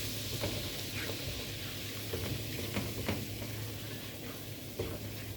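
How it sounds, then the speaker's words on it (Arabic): Black peppercorns and turmeric sautéing in a pan give a steady, close sizzle and frying hiss, with faint stirring scrapes. "اشوحهم مع شوية من الكركم"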